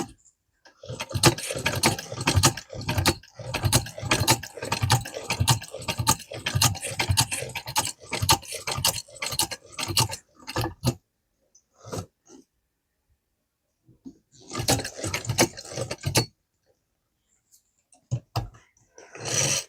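A Burdick sewing machine turned by hand, giving rapid mechanical clattering and ticking in a long run, then silence, then a shorter burst of the same rhythmic clicking, close and fairly loud.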